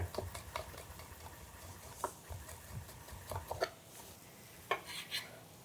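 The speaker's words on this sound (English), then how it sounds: "Just gonna stir that up." A spoon stirring minced garlic and salt in a pan during mushroom shawarma prep, with soft scrapes and light clinks against the cookware, faint and irregular, alongside a low background sizzle.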